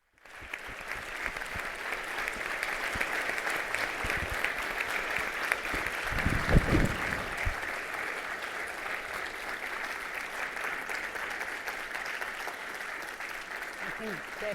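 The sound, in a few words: audience applause after a speech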